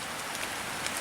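Steady rain patters continuously on surfaces around a sheltered woodland bushcraft spot, a dense even hiss at moderate volume with no voices.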